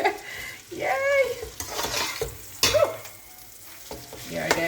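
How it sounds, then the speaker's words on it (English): Chicken fries in a pot with a steady sizzle under stirring clatter, brief tonal squeaks and a sharp knock partway through. "I'm just going to let it fry for 2 more minutes"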